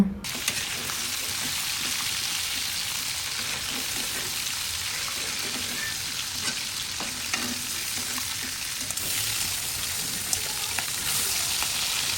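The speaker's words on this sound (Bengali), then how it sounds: "আরও বাকি চিংড়িগুলো হচ্ছে আমি কড়াইতে দিয়ে দিব ভাজার জন্য" Shrimp fry in hot oil in a wok, a steady bright sizzle that holds at an even level throughout with no voices over it.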